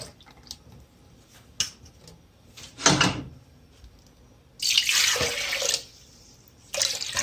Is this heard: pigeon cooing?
no